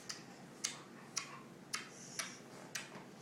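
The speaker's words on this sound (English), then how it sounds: "What is that mysterious ticking noise?" A faint, mysterious ticking sounds in a quiet room, sharp clicks arriving about every half second in a steady, even rhythm, alone with no voices.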